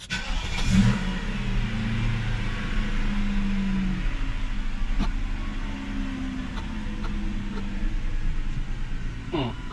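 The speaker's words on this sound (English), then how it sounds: "So I'm gonna start the car." A car with a transmission fault stuck in failsafe mode starts up and settles into a steady mid-pitched idle, with a brief surge as it catches, heard close and loud throughout.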